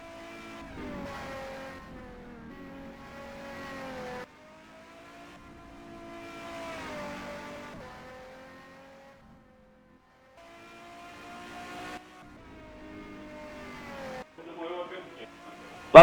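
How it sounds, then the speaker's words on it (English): Race cars in a racing video game, their engines whining in rising and falling tones over several passes near the finish of a race, under continuous commentator talk. "Nuno Senna finishing the race."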